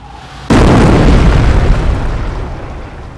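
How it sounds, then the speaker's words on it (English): In Company of Heroes, a mortar half-track fires an incendiary barrage at an enemy infantry squad: a sudden loud explosive boom that rumbles and slowly fades, alone without talk. "Order the mortar half-track to fire an incendiary barrage at the enemy infantry squad."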